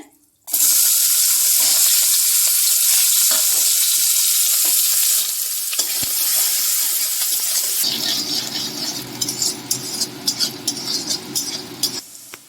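Chopped onion drops into hot oil already spiced with whole cumin, cinnamon, cloves and garam masala, for a fish-head cabbage curry. It sizzles loudly and steadily throughout, turning coarser and crackling after a few seconds.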